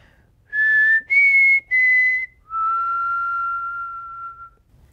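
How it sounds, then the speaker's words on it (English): A person whistles the four-note Mockingjay call from The Hunger Games: three short, clear rising notes, then one longer held lower note, loud and close in a quiet room. "I want you to share a video of you doing the Mockingjay whistle"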